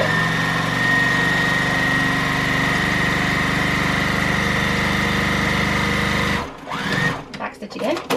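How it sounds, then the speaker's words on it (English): A sewing machine runs steadily, stitching through a rag quilt square with white thread for about six seconds, then stops, leaving brief handling noises and rustling at the end. "here we are at the machine, and we're literally gonna start at one corner, back stitch"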